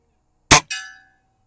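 A Beeman R7 air rifle pellet strikes a steel target plate with a single sharp clang, followed by a short, dull ring that fades quickly.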